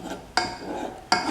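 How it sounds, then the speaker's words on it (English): A spoon vigorously mixes sweet pancake batter in a bowl, with two sharp clanks of metal against the bowl over a soft, wet stirring sound. "or vigorously mix with a spoon."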